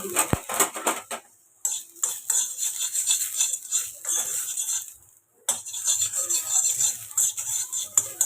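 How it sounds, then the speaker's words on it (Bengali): Cashews and raisins stirred in hot ghee in a pan: bursts of metallic scraping and clinking from a spoon against the pan, separated by short quiet pauses, close up. "ঘিয়ের মধ্যে নাড়াচাড়া করে নিলে খুব ভালো হয়।"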